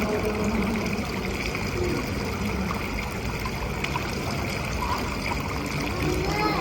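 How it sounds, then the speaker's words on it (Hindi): Steady, close water rushes and splashes from an artificial waterfall inside a hotel in Dubai, a continuous dense flow without pauses. "यहाँ पर भी ये बड़ा मज़े का उन्होंने वाटरफॉल सा बनाया हुआ था"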